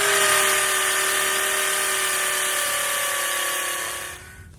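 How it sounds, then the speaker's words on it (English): Hammer drill drilling, a loud, steady high-pitched whine with a buzzing hammer rattle, held continuously before winding down at the end. "You want to let the bit work and the hammer that's on your hammer drill."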